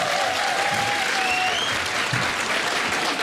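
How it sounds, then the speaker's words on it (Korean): Studio audience applause on a Korean political talk show, a dense steady wash of clapping at close range that holds evenly throughout, with faint whistling tones drifting over it. "박수 한번 쳐주셔야 돼요"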